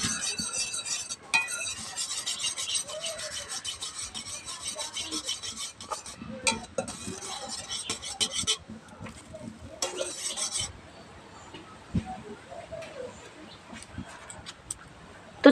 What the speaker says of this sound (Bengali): ভালোভাবে নাড়াচাড়া দিয়ে এবার এটাকে মিক্স করে নিতে হবে।